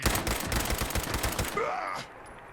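Rapid automatic gunfire in Fallout 76, a loud, fast, evenly spaced burst of shots that stops abruptly, followed by a brief groaning voice.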